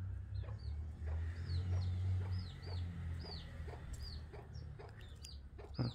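A farmyard hen clucks repeatedly in short, evenly spaced calls, fairly close, over a steady low background hum, with a brief thump near the end.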